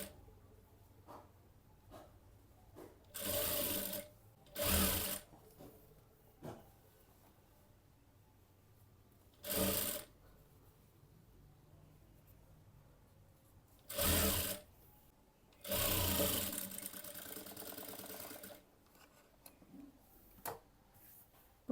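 Sewing machine stitching a folded blouse seam in short separate bursts, some brief and one longer, with quiet ticking and fabric handling between runs and no talking.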